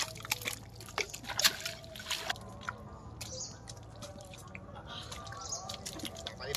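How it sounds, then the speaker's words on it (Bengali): Fishing net washed by hand in a tidal river creek in the Sundarbans on a winter afternoon, with soft trickling, dripping and light sloshing of water close by, some faint bird calls, and occasional voices in the background. "এই জালটা ধুয়ে দেখি।"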